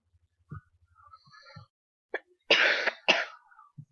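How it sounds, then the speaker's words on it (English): A couple of sharp, close coughs in quick succession, preceded by faint throat sounds and small noises in an otherwise quiet room. "I was coughing."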